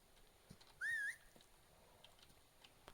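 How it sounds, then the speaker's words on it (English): A horse in the medieval farming game Medieval Dynasty gives a short, wavering whinny-like call lasting about a quarter second, clear above a quiet background of faint ambient noise. "Hi, horse."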